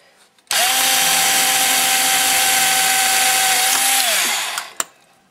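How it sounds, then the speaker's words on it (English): A power drill bores out the center hole of a bolt: one loud, steady high-pitched whine close up for about four seconds, then it winds down and stops with a couple of sharp clicks. "Then you're gonna slowly and carefully drill this center hole out."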